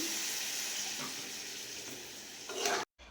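Mushroom curry being stirred in a pan just after water is poured in, a steady wet sizzle and scraping close by, swelling louder near the end before cutting off briefly.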